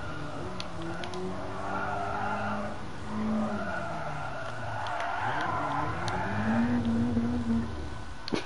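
A BMW M3 E30 with automatic transmission in Gran Turismo Sport spins fully on the Nürburgring, its tires squealing in long, wavering, pitch-shifting skids over a steady engine drone.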